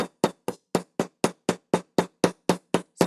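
Metal hammer strikes on jewelry wire or sheet, about thirteen sharp, evenly spaced blows in quick steady rhythm, close and clear with no talking.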